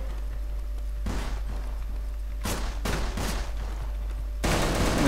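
Bursts of rapid gunfire in the first-person shooter Tactical Intervention, several short volleys and single shots spread through the stretch, fairly loud and close, with a heavier sustained burst near the end.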